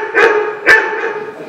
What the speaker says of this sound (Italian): Mi è sembrato di sentire abbaiare un cane nel giardino.